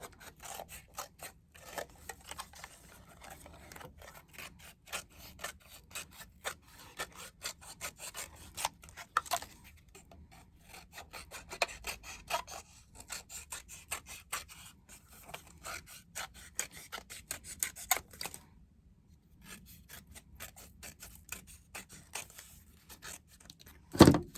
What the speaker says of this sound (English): what I do is I sand the edges